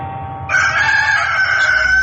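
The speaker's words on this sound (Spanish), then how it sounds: "un gallo cantó" A rooster crows once, loud and close, a long sustained call that starts abruptly and holds steady to the end, with faint low background noise beneath it.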